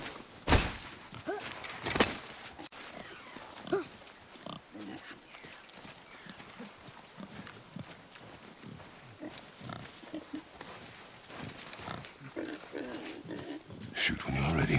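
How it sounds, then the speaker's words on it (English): A wild boar in a video game grunts a few times, with sharp thumps and short bursts early on, while voices talk over much of the scene. "I knew it was a boar."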